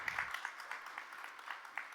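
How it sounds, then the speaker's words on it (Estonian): A conference audience at a management workshop applauds, a steady wash of many hands clapping with occasional sharper claps, moderately faint and without voices over it. "teeme suure aplausi"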